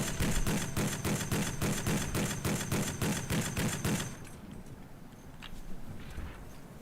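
Automatic fire in the WWII shooter Rising Storm comes as a rapid, regular string of bursts for about four seconds, then cuts off, leaving quieter background battle noise.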